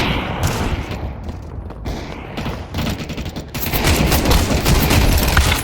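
Rapid automatic gunfire from the video game Counter-Strike 2, dense bursts of shots and mechanical clatter in a loud continuous barrage that grows heavier toward the end.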